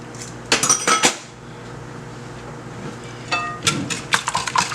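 A utensil beats eggs with milk in a bowl, two short bursts of rapid clinking against the dish separated by a quiet pause.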